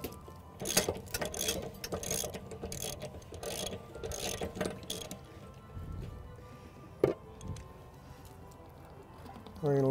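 A half-inch drive ratchet with a 1 1/16 inch socket loosens an RV water heater anode rod, giving bursts of quick metallic clicking and scraping, fairly close, followed by a sharp clank and a brief whoosh near the end.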